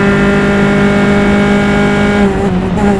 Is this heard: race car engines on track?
yes